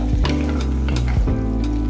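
Tomatoes frying with mutton in hot oil, a steady loud sizzle close up with occasional stirring scrapes against the pot.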